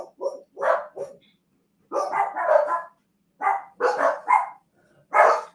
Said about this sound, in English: I don't even understand why they are barking.